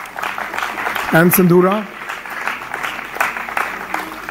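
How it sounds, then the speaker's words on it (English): Audience applause at a South Asia learning summit on transforming AI at ISB, steady clapping running throughout with someone speaking briefly over it. "Please give them a round of applause again."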